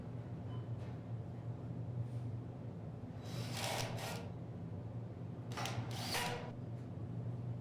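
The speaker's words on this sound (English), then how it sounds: "begin screwing the studs to the track at the bottom, installing screws on each side of the stud" Power screwdriver driving screws through steel studs into the bottom track while fitting a fire-rated steel door frame, two short whirring bursts a couple of seconds apart over a steady background hum.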